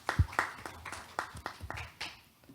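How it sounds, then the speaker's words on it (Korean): An audience at an academic conference session gives a short round of scattered hand claps to welcome the moderator, quiet and somewhat distant, with individual claps spaced unevenly over a couple of seconds. "모두 큰 박수로 맞아주시기 바랍니다"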